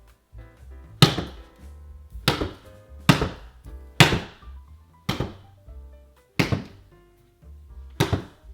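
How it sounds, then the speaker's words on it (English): Volleyball struck repeatedly with a snapping top-spin arm swing at home, about eight sharp, punchy smacks arriving roughly once a second, each decaying quickly, close and with no voices. "we're gonna strike the ball and we're gonna practice snapping down and creating top spin on the ball"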